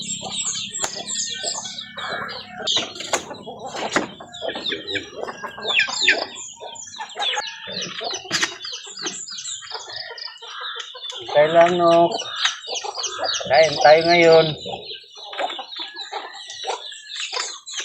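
Chickens cluck and call around a farm where fowl are being caught, with brief bursts and a few loud squawks, while a person speaks intermittently nearby.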